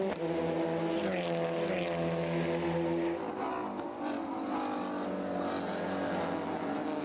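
A tightly packed group of racing cars, including a Volkswagen Golf GTI among TC Canada cars, roars down the Andretti straightaway at Canadian Tire Motorsport Park on the first lap, a loud sustained engine drone that shifts pitch as they pass.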